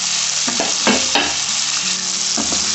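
Crushed green chillies fry in a pan for restaurant-style chilli chicken, a continuous bright sizzle with several quick scrapes and clinks of a stirring spoon.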